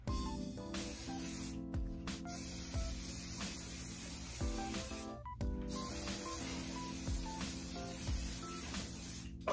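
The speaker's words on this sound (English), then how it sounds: "I have this olive oil ORS, and I'm just gonna spray my hair, give it some sheen and a little bit of body." ORS olive oil sheen spray misted onto hair, several short bursts of close, bright aerosol hiss with brief pauses between pumps, heard over faint background music.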